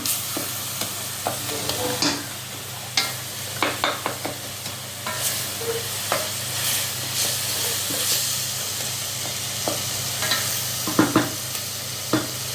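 Chillies fry in a hot pan for mutton bone soup, with a continuous sizzle and hiss under repeated scraping stirs, steady and close throughout.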